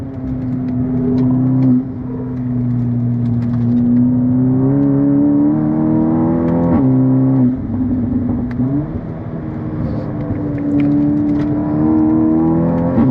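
Engine and exhaust of a car driven hard on a track, either a VW Golf GTI TCR or a Seat Leon Cupra 280 on Cup 2 tires, heard loud and close from inside as revs climb, shift and settle again, with no talk.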